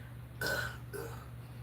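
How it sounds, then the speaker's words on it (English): A single loud belch, short and throaty, followed by a softer trailing burp over a low steady hum. "Now that should have been a good belch."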